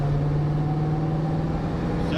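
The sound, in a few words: 1974 AMC Javelin accelerating in second gear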